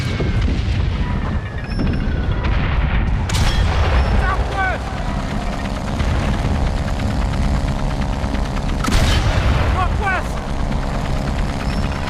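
Artillery fire in the Valiant Hearts: The Great War video game: two heavy booming blasts land several seconds apart over a constant rumbling battlefield drone, with a voice talking through it.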